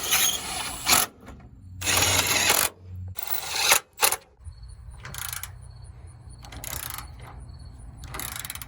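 Hand ratchet snugging fender bolts on a Ford Bronco during a restoration in a garage, heard as several short bursts of rapid clicking separated by pauses, close and moderately loud, with no talking.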